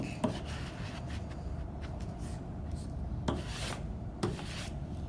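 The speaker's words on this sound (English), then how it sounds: "We're going to scrape it as hard as we can because we want it to stick." A board's back is scraped hard in steady rasping, filing-like strokes, close and continuous, with a few sharper scrapes standing out; no one talks.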